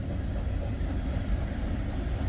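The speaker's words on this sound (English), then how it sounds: "I have no idea what the train ID is on this guy" Norfolk Southern freight train passing close by, a steady, continuous low rumble and roar of rolling cars and wheels with no pauses.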